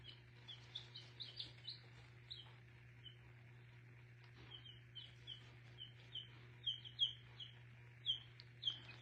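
A bunch of young female chicks peep and chirp in quick, high, scattered bursts, faint but steady over a low constant electrical hum.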